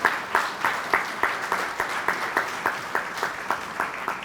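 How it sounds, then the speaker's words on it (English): A reception audience at a county historic preservation event claps in a steady, rhythmic pattern, fairly close and even, with no voices over it. "Give yourself a round of applause"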